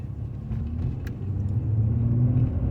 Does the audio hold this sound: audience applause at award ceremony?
no